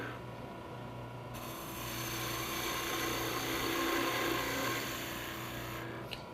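A wood lathe turning a Christmas ornament while a skew chisel cuts into the spinning wood, a steady motor hum joined by a continuous hissing, scraping cut that swells and then eases, close and fairly quiet, with no talk.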